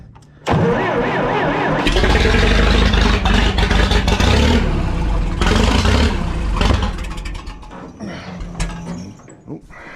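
An old engine with a brand-new solenoid cranks and catches after a short lull, then runs loud and uneven, sputtering and settling before fading toward a rougher idle; a person speaks briefly.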